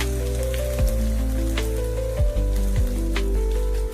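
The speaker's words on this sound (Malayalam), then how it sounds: "എണ്ണ നല്ലവണ്ണം ചൂടായി വന്നിട്ടുണ്ട്. അതിലേക്ക് ചക്കച്ചകിണി നമ്മൾ ഇട്ട് കൊടുത്തിരിക്കുകയാണ്." Soft jackfruit rags sizzle steadily in hot oil, a dense, even crackle and hiss close to the pan, with a few faint stirring knocks.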